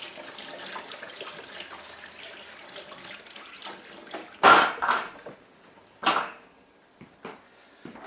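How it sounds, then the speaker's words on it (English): A big ladle rinsed under hot running tap water at a kitchen sink, a steady flow at first, then two louder splashing bursts and a few light clinks of metal near the end, with no talk. "I just rinse it with hot water and it'll be fine."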